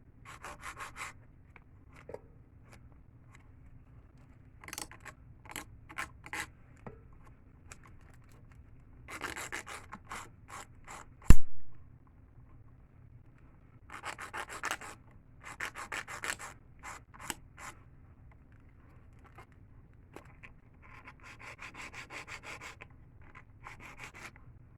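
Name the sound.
filing an acrylic nail into a pointed shape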